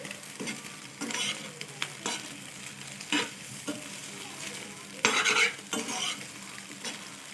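A spoon stirring salt into a sizzling egg manchurian mixture in a pan, with repeated scraping and clinking strokes over continuous frying hiss, close up and fairly loud.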